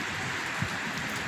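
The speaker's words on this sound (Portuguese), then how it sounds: "Chovendo, ó. Aquela chuvazinha fininha." Light, fine rain falls steadily during a cold front, making a continuous soft hiss with no distinct drops standing out and no voices.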